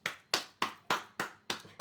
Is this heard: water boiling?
no